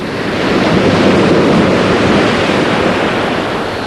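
Waves washing onto a deserted beach a mile south of Arklow, a loud, continuous roar of surf mixed with wind buffeting the microphone, steady throughout with no voices.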